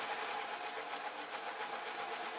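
A sewing machine stitches satin with piping, a faint, fast, steady mechanical chatter with an even rapid rhythm throughout the short stretch, alone with no talk.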